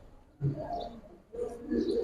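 Giribaz pigeons, black-beaked Kalachari birds in a loft, coo in two short bursts separated by a brief pause, each a soft, throaty rolling sound heard up close.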